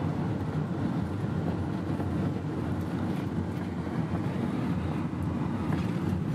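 A tram passes along a street in Pyongyang, a steady, dense low rumble of wheels and rolling stock holding at an even level throughout with no voices.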